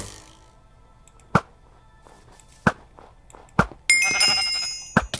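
Sheep bleating in the Minecraft video game, several sharp, loud bleats at irregular intervals over quiet game sounds, with a burst of distorted noise partway through.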